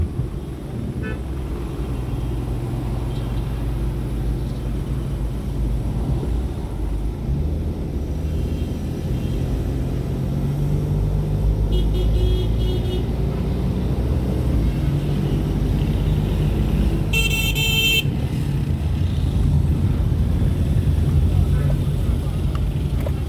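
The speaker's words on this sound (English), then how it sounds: "The traffic is around this side too." Dense street traffic on a day out in Jamaica rumbles steadily with engines, while car horns toot now and then above the continuous roar.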